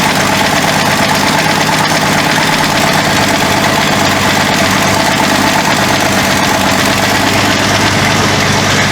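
An abandoned 1967 Ford Mustang, unrun since 2000, idles loud and close with a sticking throttle, a rough, steady engine roar with knocking vibration that holds unbroken throughout.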